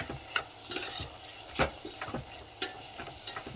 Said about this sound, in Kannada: ಆಗಲೇ ರುಬ್ಬಿಟ್ಟಿರ್ತಕ್ಕಂಥ ಮಸಾಲೆ, ಒಣ ಕೊಬ್ಬರಿ, ಚಕ್ಕಿ, ಲವಂಗವನ್ನು ನಾನು ಇದಕ್ಕೆ ಸೇರಿಸ್ತಾ ಇದ್ದೀನಿ. ಸ್ವಲ್ಪ ಹೊತ್ತು ನಾವು ಫ್ರೈ ಆಗಲು ಬಿಡೋಣ.